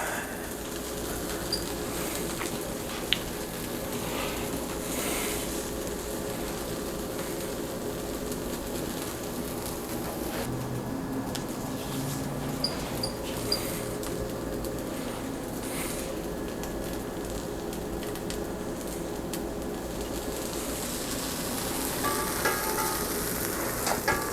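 A grilled cheese sandwich frying in a pan, one side cooking down, gives a continuous soft sizzle for the whole stretch, with occasional faint clicks and no voices.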